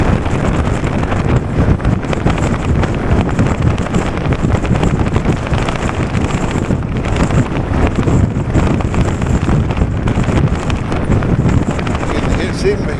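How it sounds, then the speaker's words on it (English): Strong wind roaring across the microphone and flapping a coat while riding an e-bike in bad weather, loud and continuous buffeting throughout with no clear speech. "You can hear my coat blowing, so I got to beat the wind."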